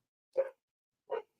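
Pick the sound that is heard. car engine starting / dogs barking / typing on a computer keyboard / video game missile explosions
dogs barking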